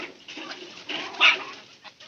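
Pigeons and chickens feed together, giving soft coos, clucks and small scratchy noises at close range, with one louder call near the middle of an otherwise quiet moment.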